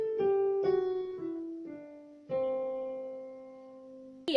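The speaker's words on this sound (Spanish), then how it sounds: "Otra escala que fue muy utilizada por Debussy es la híbrida, la lidia mixolidia" Piano plays a Lydian-Mixolydian hybrid scale, with a few separate notes struck and left to ring in a quiet, sparse line and no voices.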